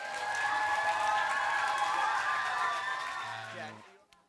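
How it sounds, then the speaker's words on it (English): Applause from a school audience of children after a rap battle performance, a loud, dense round of clapping and cheering that holds steady for several seconds and then cuts off abruptly. "Round of applause."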